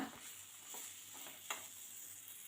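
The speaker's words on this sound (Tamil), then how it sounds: "இதை ஒரு நல்லா பிரட்டிடுங்க" Onion, tomato and masala stirred in a pan over a low flame, giving a soft continuous sizzle with a few scraping strokes of a spoon, close and quiet.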